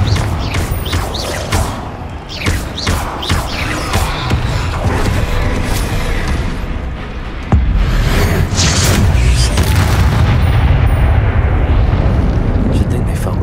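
Deep booming blasts from a Confringo spell ring out in Hogwarts Legacy, several loud explosions with long rumbling tails overlapping in quick succession, while a voice calls out over them.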